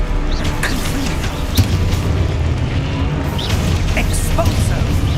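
Confringo spell explosions in the Hogwarts Legacy video game make deep, dense booms within steady, busy game noise. A voice talks over the action throughout.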